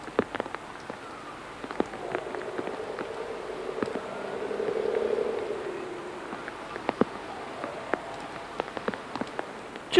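Rain falls steadily outdoors at a football training ground, a soft continuous patter with scattered sharper drops and a faint passing hum in the background.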